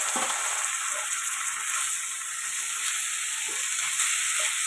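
Chicken pieces going into hot oil with fried ginger garlic paste, giving a loud steady sizzle and hiss, with faint stirring clinks and scrapes underneath and no voices.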